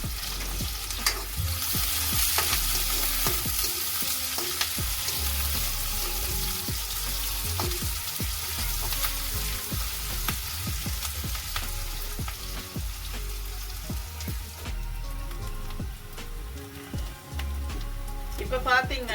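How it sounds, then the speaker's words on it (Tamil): Onions for a spicy Jaffna-style chickpea sundal frying and softening in a pan, a dense close crackling sizzle that rolls on throughout, with repeated stirring scrapes. "முதல்ல போட்டு கொஞ்சம் கிளறி விட்டால் முழுக்கமாக வதங்கிடும்"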